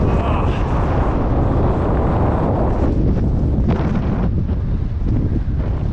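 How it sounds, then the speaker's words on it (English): Strong wind roars without pause across a mountain ridge on the Tongariro Alpine Crossing, buffeting the microphone with a loud, dense rush throughout. "If I don't get blown off by the wind."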